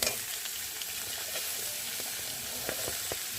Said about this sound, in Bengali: আর এখন কেটে রাখা লাউ দিয়ে ভালো করে কষিয়ে নেব